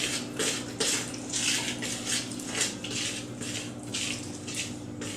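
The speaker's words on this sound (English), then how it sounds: "I'm going to pour the wet ingredients into the dry ingredients, stirring at the same time." Wet lemon pancake ingredients are poured into a bowl of dry ones while a utensil stirs, giving a steady wet swishing with light scraping and clinks against the bowl, close up and without talk.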